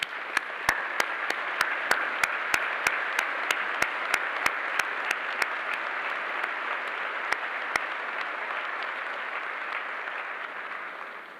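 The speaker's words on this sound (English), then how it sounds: "let us welcome you with a big round of" A large crowd at a Corps of Cadets commencement ceremony applauds steadily and warmly, with a dense wash of clapping that continues evenly before slowly tapering off.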